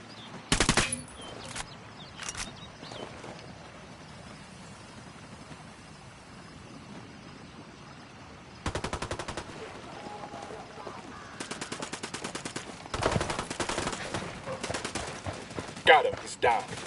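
Automatic gunfire in Ghost Recon Wildlands comes in sharp separate bursts: a short one early, then longer rattling volleys later on, with quieter gaps and some background noise between them.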